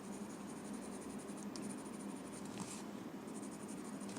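Graphite pencil shading on paper for a Zentangle drawing, a close, continuous soft scratching rasp with steady strokes and no talk.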